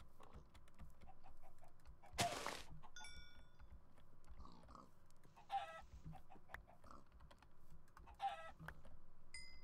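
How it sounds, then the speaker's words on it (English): A chicken clucks faintly in a UHC video game, its calls brief and distant, mixed in with steady computer keyboard typing. "Ooh, chicken. Chicken, come on."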